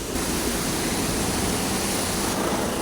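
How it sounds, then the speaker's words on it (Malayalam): Water spray hitting a car during a wash, giving a dense, steady hiss that runs unbroken, close and loud, with no talking. "വെള്ളം വെച്ച് നല്ലോണം കഴുകുവാണ് ഗൈസ്"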